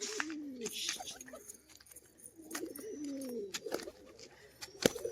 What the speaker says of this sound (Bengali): এই যে নর পায়রাটা বাজি করছে